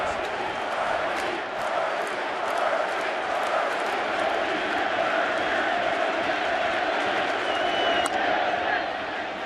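Large crowd cheering and roaring continuously at a Kansas City Royals vs New York Mets 2015 World Series game, a dense, sustained wash of stadium noise with no breaks.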